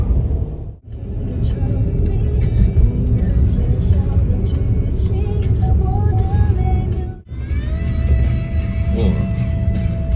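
A four-wheel-drive car on snow tires driving slowly over a snowy road, a constant low rumble of engine and tires heard from inside the cabin, with people talking over it.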